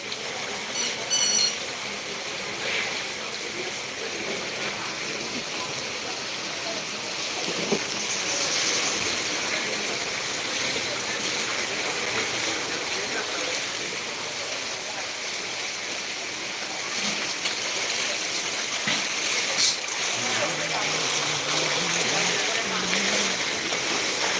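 Water flowing across a flooded road in Masdair BSCIC area, Narayanganj, a steady low rush and trickle heard continuously, with faint voices and passing street activity in the background.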